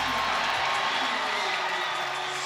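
A basketball crowd at a Maple Grove boys' game cheering as the Osseo and Maple Grove starters are introduced, a sustained roar of cheers and applause filling the gym.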